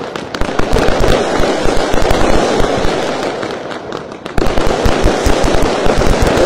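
Firecrackers and fireworks going off on New Year's Eve in Romania as a dense, continuous barrage of loud pops and bangs, with a brief dip midway before the crackling resumes at full strength.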